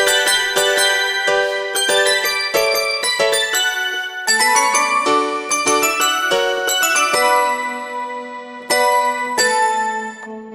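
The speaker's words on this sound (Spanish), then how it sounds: "Otra vez con la campana." A bell voice on a Roland XPS-10 keyboard is played as a quick run of bright, ringing chimes with crisp strikes. The last notes are held and slowly fade.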